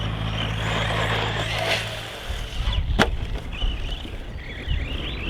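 A Maverick Quantum 2 Flux RC truck on a 3S battery drives close by, its electric motor whining in fluctuating bursts over rough ground noise, with a sharp knock near the middle as it hits or lands.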